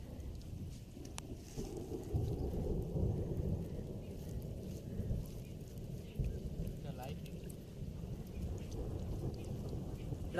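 Rain with rumbling thunder at an outdoor chicken picnic beside a river, a continuous low roar and patter that swells in deep rolling waves, steady throughout with some background voices.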